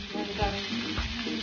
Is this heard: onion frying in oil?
yes